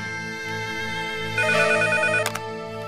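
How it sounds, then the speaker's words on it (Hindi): Telephone ringing in a Bhojpuri film, a repeating electronic ringtone with a steady pulsing pattern that grows louder partway through, with a brief sharp click near the end and no speech. "घंटी जाता।"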